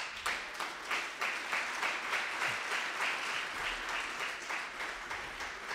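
A church congregation applauds loudly at a sermon, dense steady clapping filling the room from start to end with no pauses.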